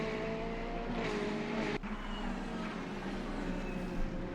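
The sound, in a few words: buzzing exhaust of a Corvette race car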